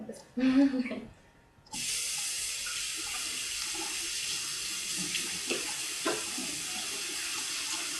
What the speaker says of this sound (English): Now you can rinse that off your hands.